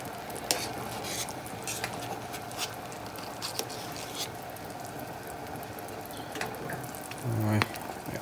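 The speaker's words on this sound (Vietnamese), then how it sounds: "tiếp tục cho nó sôi tiếp rồi sẽ đi hớt tiếp" Chicken broth for glass noodle soup boils steadily in a pot, a faint continuous bubbling hiss with occasional soft clicks and knocks, and a brief louder clatter near the end.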